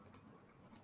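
A computer mouse clicks on an item in a Power Automate flow: two quick clicks near the start and one more a moment later, sharp and close against a quiet background.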